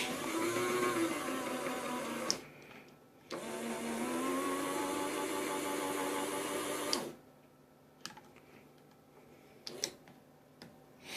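An HO scale model train locomotive on a layout runs under power with a steady motor whine and faint ticking, stopping twice, then a few light clicks in quieter stretches.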